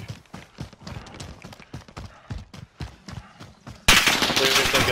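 Enemy gunfire in the Warzone video game, fired from a window, comes as a steady rapid string of sharp shots with rumbling low ends, then gives way near the end to a sudden, much louder sustained blast of noise.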